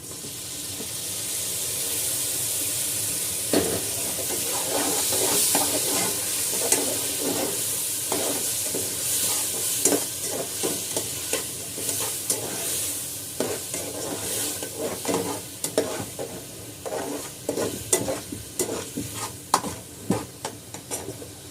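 Tomatoes sizzle steadily in a hot pan with softened onions while a utensil scrapes and clinks through them in irregular strokes, growing more frequent toward the end.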